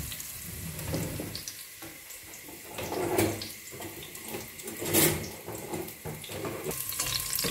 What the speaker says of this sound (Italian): Lasciamo soffriggere.